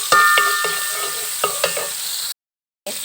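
Garlic sautéing in melted butter, a loud close sizzle with a few spoon taps against the pan, cut off by a brief silence before the frying resumes.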